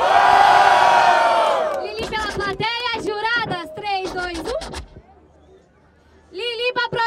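A rap battle audience in Barueri, São Paulo roars loudly to vote for rapper Lili, a burst of crowd shouting and cheering that then gives way to excited individual yells and whoops, fading briefly before rising again.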